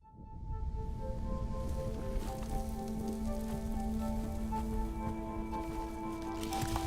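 Steady rain falling on a surface, a dense continuous patter that stays loud and even throughout with a faint tonal hum beneath, and no voices.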